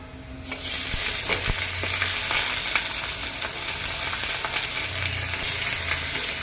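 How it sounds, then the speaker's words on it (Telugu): Chicken hits a pan of fried onions and sizzles loudly and steadily, with stirring scrapes mixed into the continuous frying noise. "ఇప్పుడు ఇందులోకి మనము చికెన్ వేసుకుందాము."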